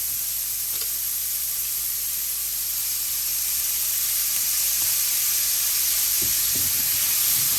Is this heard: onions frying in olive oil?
yes